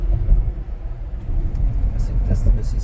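A Tesla Model X Plaid cruises in highway traffic near Baton Rouge, crossing the Mississippi River, with a steady low road rumble and tire drone throughout, a few faint hissy passing sounds near the end.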